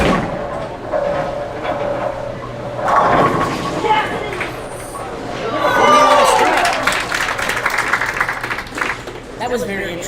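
Crowd at a bowling alley reacting to an apparent strike, a swelling murmur and cheer that rises twice among chatter and lane noise, with people talking throughout.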